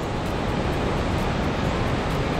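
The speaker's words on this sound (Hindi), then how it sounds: "जो आप ये नदी देख रहे हैं ये सीधा वेलियो फ्लावर से आ रही है और उसका फ्लो बहुत तेज है" Fast-flowing, clear mountain river coming down from the Valley of Flowers in Uttarakhand, a loud, dense and unbroken roar of rushing water heard close with no voices.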